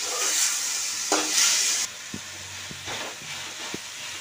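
Green chillies and tomato fry in oil in a pan for a mint chutney, with a loud sizzling hiss for the first two seconds that then settles into a quieter sizzle with occasional soft clicks.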